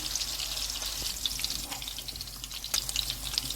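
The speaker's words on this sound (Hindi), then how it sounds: "अब इसी तरह से दूसरी साइड से भी हम इसको इसी तरह से ब्राउन से फ्राई कर लेंगे।" Salmon fillet browning in hot oil in a pan, a steady close sizzle with scattered crackles and pops throughout.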